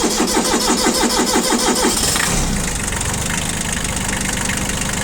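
Kubota Bulltra tractor diesel engine starting cold without glow plugs or throttle, cranking with a rhythmic chug before catching and settling into a loud, steady idle close by.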